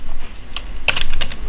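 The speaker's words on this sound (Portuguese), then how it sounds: "Digito aqui FGTS, pressiono Enter." A brief run of computer keyboard keystrokes, a handful of crisp clicks close together, with a low hum underneath.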